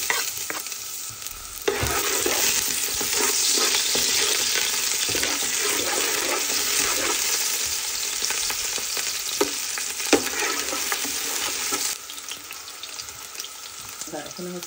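Eggplant, tomato, zucchini, pumpkin and long beans sizzle loudly in a frying pan while being stirred, with steady crackling and occasional scraping through most of the clip.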